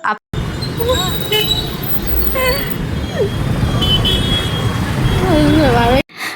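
Busy traffic at Balaramapuram junction, with vehicles arriving from the railway crossing: repeated car and bus horns toot over a dense roadway roar. Voices are heard now and then, and the sound cuts off abruptly near the end.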